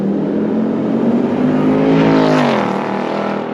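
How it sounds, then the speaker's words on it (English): A Ford Mustang GT S650 with its stock active valve exhaust rumbles with a deep, loud droning tone that swells and shifts pitch as the engine revs, close and steady throughout. "this stock S650 active valve exhaust system might just be the loudest and freest flowing OEM Mustang exhaust ever"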